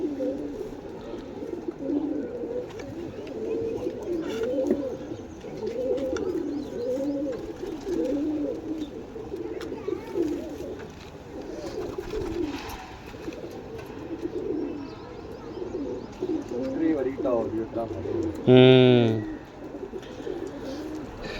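Teddy breed female pigeon cooing in repeated soft rounded phrases through most of the stretch, close by, with a brief louder squeak near the end and a short spoken utterance.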